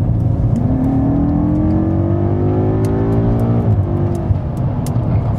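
BMW M5 engine on a race circuit, loud and close, pulling steadily up through the revs for several seconds before a brief drop at a gear change, then resuming its sustained drone.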